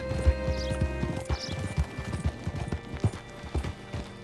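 Horse hooves clip-clop at a steady walking pace in a Western video game, fairly close and distinct, with a faint whinny and a low ambient music bed underneath.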